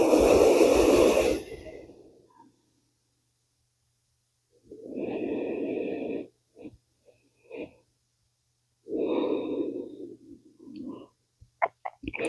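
Yoga breathing in child's pose: two slow, deep breath cycles, each an audible airy exhale followed by quiet, close and intimate, with small clicks and snuffles between them.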